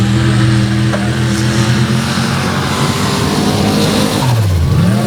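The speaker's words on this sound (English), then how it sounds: "an impressive pass with this turbocharged Jeep CJ out of the Pine Tree State" A turbocharged Jeep CJ paddle-tire drag racer makes a loud, sustained engine roar through its pass, with a pitch sweep near the end and no voices over it.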